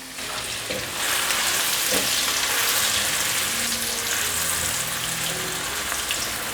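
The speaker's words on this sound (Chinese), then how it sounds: "剩下大约2汤匙的油，放入香菇角炒香" Diced shiitake mushrooms stir-frying in about two tablespoons of oil, a loud, dense and continuous sizzle heard close up, with a few soft scrapes from stirring and no voices.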